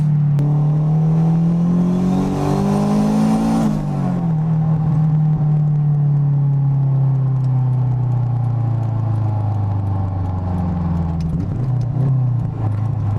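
Inside a turbocharged 500-horsepower 2003 Honda S2000 AP1, the engine drones loudly. Its pitch climbs in a quick rev-matched blip for a downshift, then settles into a steady rumble with another small rise near the end.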